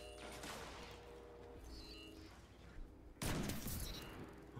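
Rapid bursts of Peacebond sidearm fire from Destiny 2, a clattering volley early on and a louder, denser burst near the end, with no talk.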